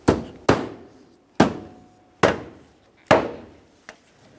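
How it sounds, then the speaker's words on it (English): Plastic bumper cover on an Acura MDX tapped into place by hand near the headlamp and fender, five firm thudding knocks at uneven intervals and a lighter sixth tap, close and clear with no talk. "we'll lightly tap it into place"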